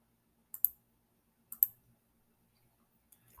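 Two sharp double mouse clicks, about a second apart, sound close and crisp while someone works through a software onboarding interface. They stand out against near silence, and a faint third tap comes at the end.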